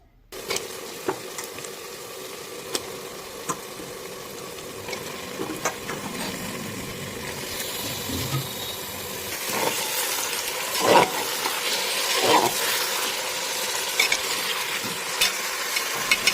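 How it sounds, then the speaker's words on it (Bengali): Mutton pieces frying with half-browned onions in a pan give a steady close sizzle, with stirring scrapes that grow louder and busier toward the end. "সেই পেঁয়াজের সাথে আর এই খাসির মাংস, এটাকে ভালো করে এখন আমাদের ভেজে নিতে হবে"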